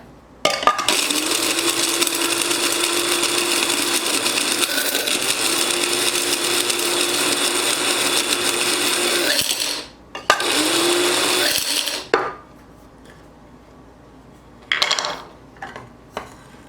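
An electric grinder whirs loudly as it grinds dried ginger for a spice tea blend, running continuously for about nine seconds, stopping briefly, starting again for a short burst, then giving a few brief pulses.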